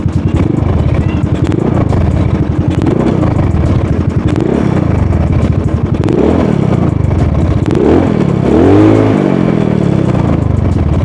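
A Yamaha Mio Soul motorcycle engine revs up and down in repeated loud surges, close by, with a rough idle between throttle blips and a final higher rev.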